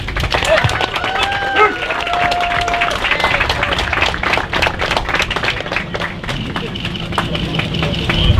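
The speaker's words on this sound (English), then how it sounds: "how about a big round of applause for the Colgan family?" Audience applause for the Colgan family at an outdoor airshow in Manassas, a broad, sustained crowd clapping with a voice speaking over it and a faint engine hum in the background.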